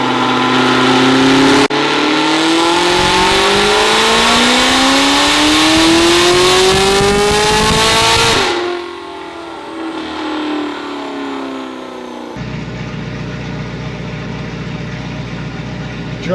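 Camaro ZL1 with Magnuson 2650 supercharger and port injection revs hard through a long pull, engine pitch climbing steadily for several seconds and then dropping off to a quieter steady hum.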